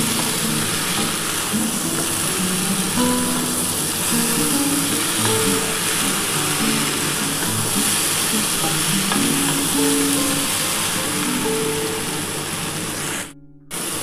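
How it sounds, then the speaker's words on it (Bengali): Spice paste for Bengali shukto sizzling and frying steadily in a pan, loud and continuous with stirring scrapes throughout, then cutting out abruptly near the end. "দিয়ে ভালো করে একটুখানি কষিয়ে নিই"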